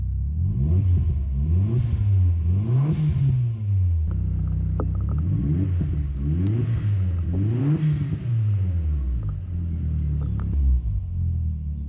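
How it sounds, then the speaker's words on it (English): A project car's engine idles roughly while warming up and is revved repeatedly, rising and falling in pitch about six times, loud and close. "We let it warm up a little bit, so I'll give it some revs."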